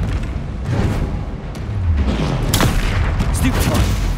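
Confringo spell blasts in Hogwarts Legacy, a string of sharp explosive cracks and deep booms in a loud, busy duel, with sudden bangs and a swell of rumble near the middle.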